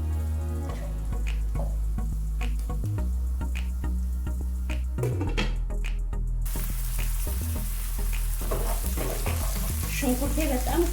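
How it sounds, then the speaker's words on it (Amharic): Chopped onions fry in a little oil in a pan, a steady close sizzle with scattered stirring clicks and scrapes, growing brighter and louder partway through, with no talking. "ሽንኩርቴ በጣም ቆንጆ ሆኖ እየበሰለ ነው"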